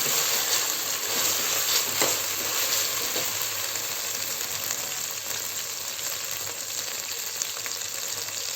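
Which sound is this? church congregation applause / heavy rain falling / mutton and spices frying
mutton and spices frying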